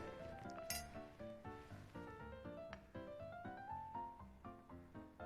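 A glass test tube handled on a chemistry lab bench while sodium hydroxide is added: a series of faint, bright clinks and taps of glass in an irregular rhythm, close by, with no voices.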